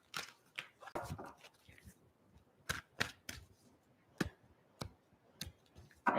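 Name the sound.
shuffling tarot cards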